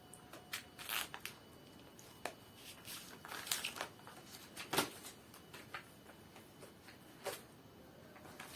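Sheets of packaged lavash flatbread for çiğ köfte, unfolded by hand. Faint, scattered crinkles and papery rustles arrive in short irregular bursts, soft and close, with no voices.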